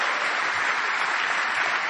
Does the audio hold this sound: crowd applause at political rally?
yes